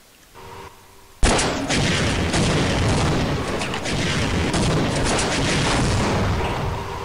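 A loud, sustained blast of explosion and gunfire noise in Half-Life erupts suddenly after a brief quiet moment and roars on steadily to the end.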